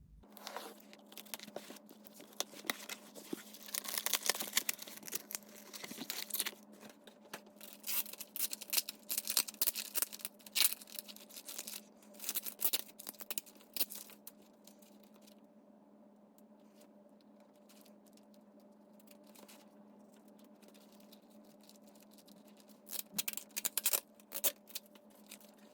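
A tightly taped comic book package being opened, with rustling, tearing and crinkling of tape and cardboard in bursts, close and moderately loud, easing off before a final flurry.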